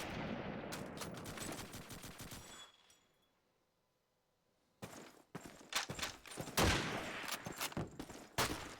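Machine gun fire in a competitive online shooter match, with dense rapid bursts, a pause of near silence partway through, then renewed loud volleys of gunfire.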